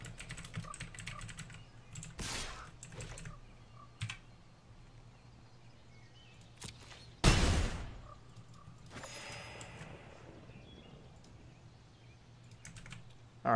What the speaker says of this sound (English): I'm finishing up this or typing out some of the description here for this YouTube video